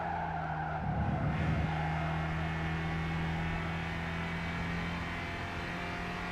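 Front-wheel-drive car in Gran Turismo 5, its engine holding a steady drone with a brief tire squeal near the start, moderately loud and alone.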